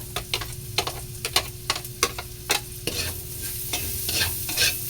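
Garlic sautéing in a pan for batchoy, with a steady sizzle broken by a series of sharp, regular stirring clicks from a utensil against the pan that thin out toward the end.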